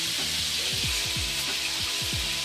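Antelope meat simmering in a pan, giving a steady close-up sizzle with a broad hiss that runs throughout and low bubbling pops over the top.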